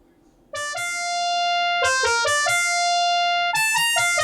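Bright FM synthesizer tones from the VOPM plugin play a melody from the Sega game Fantasy Zone, sharp plucky notes in a quick rhythm with sustained held tones, clear and alone.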